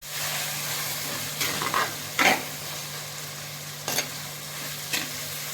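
Onions fried to golden in a pan for Andhra-style mango fish curry as chopped tomatoes are stirred in: a constant sizzle broken by several sharp scraping stirs, no talk.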